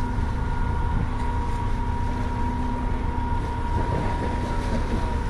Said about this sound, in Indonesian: yang akan masuk di dermaga 6 nih kapal Raja Basa